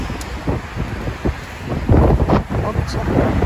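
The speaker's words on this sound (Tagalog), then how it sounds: "Mahangin, no?" Outdoor wind gusting across a microphone on a city street in Seoul, a steady broadband rush with louder buffets toward the end and brief voices mixed in.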